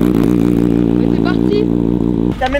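A motorcycle engine runs loud and close in a steady harmonic hum, then cuts off near the end as a voice breaks in.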